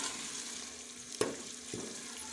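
Steady sizzle of minced meat with tomatoes and a little water frying in a pressure cooker pan, with a couple of brief clinks of stirring.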